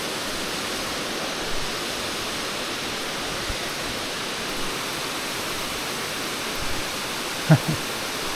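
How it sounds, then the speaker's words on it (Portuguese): Water runs steadily from a spout at a garden attraction in Canela, a constant near splashing rush that fills the whole clip, with only a faint knock near the end. "Olha, temos uma bica d'água."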